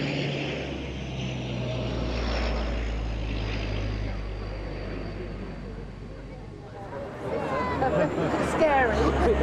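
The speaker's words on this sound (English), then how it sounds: "Air Southwest operates a fleet of 5 50-seater Dash 8 aircraft manufactured in" Air Southwest Bombardier Dash 8 50-seat propeller airliner flying a display at a seaside airshow, a steady loud engine drone with low propeller hum that fades slightly midway, then swells again nearer, with crowd babble beneath.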